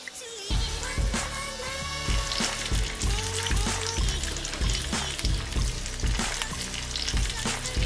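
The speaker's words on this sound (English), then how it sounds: "Okay, so now it's time to fry." Teriyaki tofu fritters frying in a pan, a loud continuous sizzle with repeated clattering scrapes and knocks from cookware.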